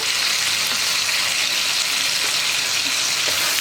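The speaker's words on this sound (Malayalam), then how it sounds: "ഇനി വിനീഗറും സോയ സോസും ഒന്ന് കുക്കായി വരണം" Vinegar and soy sauce cooking down in a hot pan for sweet corn fried rice, an even, loud, unbroken hiss of sizzling liquid with no talking.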